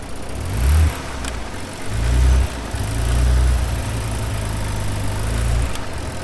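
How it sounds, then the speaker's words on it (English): Damaged Ford Bronco Raptor engine being revved off road: several rising throttle blips from a low idle, then a longer sustained rev held before easing off, loud and close. "Not like crazy, just like rev a little bit up."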